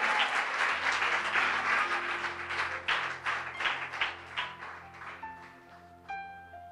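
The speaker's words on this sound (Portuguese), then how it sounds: "Você pode dizer glória a Deus e dar uma salva de palmas ao Senhor Jesus Cristo?" A church congregation applauding, dense clapping from a crowd that swells at first, then thins out and fades to scattered claps toward the end.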